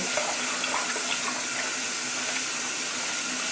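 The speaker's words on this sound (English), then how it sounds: "I just keep swishing it around till the water comes out pretty clear" Rice is rinsed by hand, swished around in a pot of water for a Japanese-style red beans and rice: a continuous, close, splashing wash of water with no speech.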